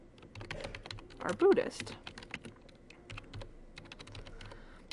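Quick, close clicks of typing on a computer keyboard run in uneven bursts, with a short spoken phrase breaking in partway through.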